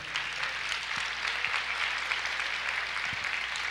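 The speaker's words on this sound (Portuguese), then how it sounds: "Pode aplaudir o Senhor." A church congregation claps during worship, a steady broadband wash of applause spread through the room at moderate level, with a few low thumps underneath.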